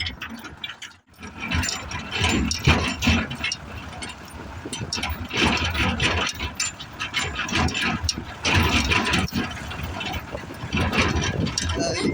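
Loud, rumbling tractor engine running nearby with rattling mechanical clatter throughout, briefly dipping near the start.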